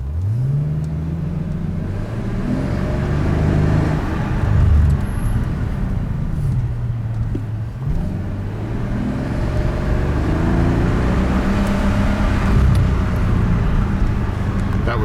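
Inside a 2008 Mercedes-Benz S65 AMG, the engine rises and falls through several revs, its deep rumble climbing in pitch and settling again, with someone talking over the cabin noise.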